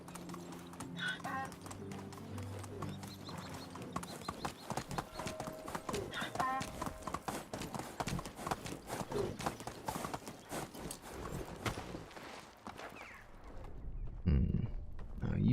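Steady clip-clopping of donkey hooves in the medieval survival game Medieval Dynasty, a rapid close rhythm running almost throughout with game ambience and occasional talk over it.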